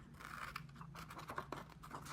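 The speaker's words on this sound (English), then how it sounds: "We're going to grab scissors." Scissors snip through folded construction paper in a series of quick, crisp cuts with short pauses between them, close and fairly quiet, with no voices.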